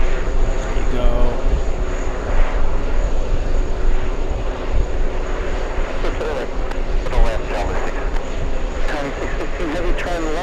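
A Boeing 747 airliner slows on runway 13 left at an airport, a steady broad engine roar holding throughout with a faint tone above it, while people talk nearby over the noise.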